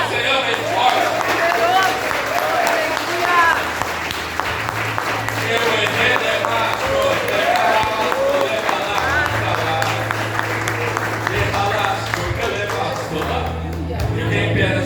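A church congregation claps loudly and continuously, a dense wash of applause that runs the whole time alongside a sustained musical tone and voices.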